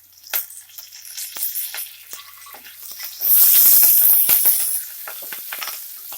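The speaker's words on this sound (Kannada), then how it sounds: "ಸ್ವಲ್ಪ ಫ್ರೈ ಮಾಡ್ಕೊಳ್ಳಿ." Green chillies and curry leaves frying with garlic in a pan, sharp scattered sizzles and crackles that swell into a loud hissing burst midway, then ease back to light spitting.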